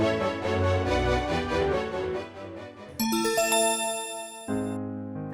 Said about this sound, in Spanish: Al oír la campana, dale vuelta a la página.